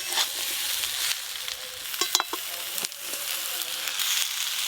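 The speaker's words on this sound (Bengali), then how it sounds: "আলু আর এঁচড় ভালো করে ভেজে নিয়েছি" Boiled young jackfruit and potato fry in mustard oil, a loud close sizzle running continuously, broken by a few sharp scrapes and clinks of stirring in the pan.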